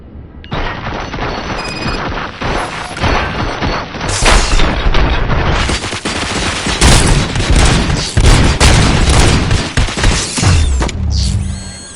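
Gunfire in the video game RoboCop: Rogue City, loud sustained bursts of automatic fire mixed with booms and mechanical clatter, continuous and dense with a sharp final flurry.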